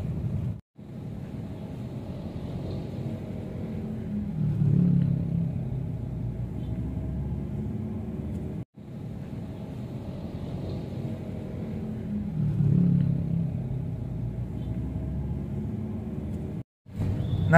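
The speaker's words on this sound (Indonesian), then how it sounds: "Nah, ini hasil rekaman suara, perhitungan bising suara pada saat mobil sedang berjalan." Steady low rumble of road noise inside a moving car on a rough, damaged road, a continuous droning hum with swelling bumps, briefly cut twice by short gaps.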